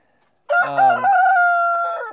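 A backyard hen in a community nest box lets out one loud, drawn-out squawking call, very close, after a moment of silence, with no talking.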